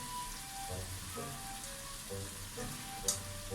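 Cauliflower sizzles and crackles steadily as it fries in a pot, a constant close hiss with a few light clinks.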